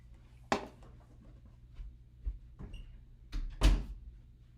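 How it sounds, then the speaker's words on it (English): A door is pushed shut indoors, with a soft bump early, some rustling movement, then a louder thud and click as it closes, all fairly quiet and close. "So I'm going to shut my door."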